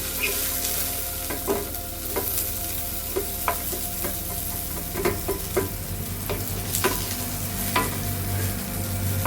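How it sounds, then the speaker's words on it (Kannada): Onions and ingredients for Nati-style mutton biryani fry steadily in a pan, with a constant loud sizzle and repeated scraping stirs of a spatula at irregular intervals, with no one talking. "ಈಗ ಫ್ರೈ ಮಾಡಿ."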